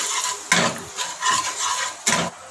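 Spices sautéed in oil in a pan with a spatula, several distinct scraping strokes against the metal amid a soft sizzle, close and clear.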